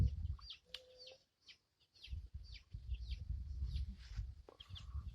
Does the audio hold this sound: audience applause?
no